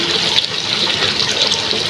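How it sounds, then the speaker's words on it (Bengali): Water poured into a pot of home-cooked roast chicken, a steady close rushing splash that holds at an even level for two seconds with no talking. "এখন আমি পানি দিয়ে দিলাম"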